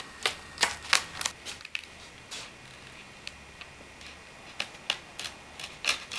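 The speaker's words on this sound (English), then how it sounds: "Take a razor blade and slice from the edge of the deck to the edge of the grip tape" Razor blade cutting skateboard grip tape along the edge of the deck, heard as a series of sharp, crisp scraping clicks in irregular bursts, close and fairly quiet over a faint background hum.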